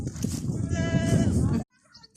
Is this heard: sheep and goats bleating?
yes